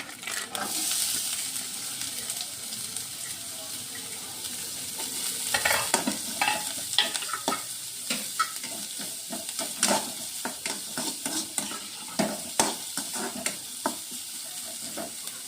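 Chopped onion sautés in a pan for an egg stir-fry, with a continuous sizzle and frequent sharp scrapes and taps as a spatula stirs, growing busier toward the end; no speech.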